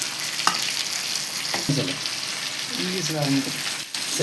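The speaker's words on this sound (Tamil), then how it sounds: "வாழை மீனை பொரிச்சிருக்கோம்" Ribbon fish fries in oil, a steady crackling sizzle with a few scraping stirs. Brief voiced sounds come through partway.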